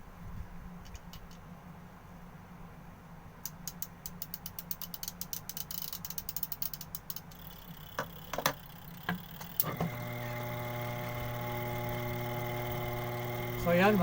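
A washing machine timer clicks rapidly as it is turned, then the motor starts with a steady mechanical hum and whir, close and moderately loud.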